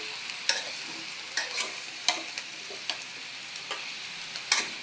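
Broad beans sizzling in a pan while a spoon stirs them, a steady frying hiss broken by sharp scraping taps at irregular intervals, close and moderately quiet.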